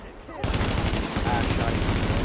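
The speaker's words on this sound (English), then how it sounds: "I shot him." Rapid automatic gunfire from The Division video game, loud and dense bursts that start abruptly and continue steadily to the end.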